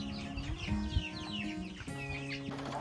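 Chickens clucking and murmuring nearby, several birds overlapping in soft chatter with occasional higher squawks.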